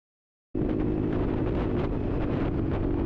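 Wind roaring over a Honda Navi motorcycle fitted with an aftermarket windscreen, starting abruptly after a short silence and then holding as a loud, steady, broadband rush close to the microphone, with no talking.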